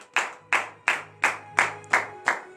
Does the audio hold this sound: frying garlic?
no